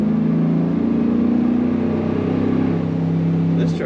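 The engine of a 2004 Chevrolet SSR sport truck rumbles loudly at a steady, throaty pitch with a slight rise and fall, close by, and continues almost without a break.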